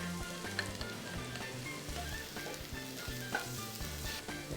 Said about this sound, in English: And we'll start by frying the shallots. Just want to lightly saute and sweat the shallots.